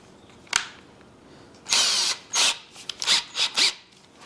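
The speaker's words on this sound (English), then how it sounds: "Get our drill." A power drill bores into scrap lumber for a birdhouse, opening with a sharp knock, then a long whirring burst followed by several short, stuttering pulses up close.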